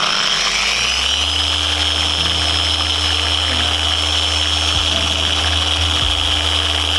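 A power polisher with a nylon brush runs at slow speed on faded car paint, a constant loud motor whine with a steady hum that holds throughout.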